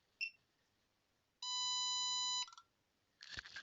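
An ESP-RFID blue board running test firmware on 12 volts sounds its buzzer in one steady, loud electronic tone lasting about a second, with brief softer beeps before and after and a short rustle at the end.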